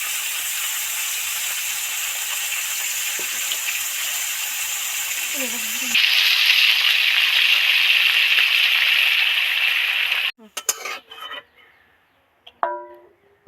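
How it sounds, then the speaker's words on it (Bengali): Amudi fish frying in a pan gives a steady hiss that swells louder midway, then cuts off abruptly, leaving a few clatters and quiet gaps; voices talk over the sizzling. "দারুণ ভাজা হয়েছে আর কি সেন্ট বেরোচ্ছে মাছগুলো থেকে ভাজছো ভালো"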